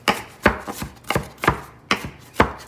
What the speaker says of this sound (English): A rough chop.